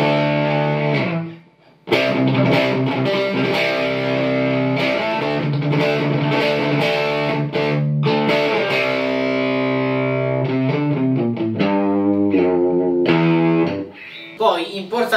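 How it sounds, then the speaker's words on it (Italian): An electric guitar played through a tube amplifier with raised overdrive distortion rings out in sustained, gritty chords and notes, loud and close, with a brief pause near the start. "Ok, ho aumentato la distorsione, però è la chitarra, che questa è troppo pulita."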